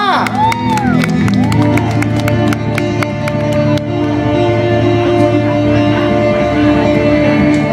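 Audience claps, cheers and whoops for a live guitar performance on stage, a loud, dense crowd roar mixed with sustained music and sharp clap accents near the start.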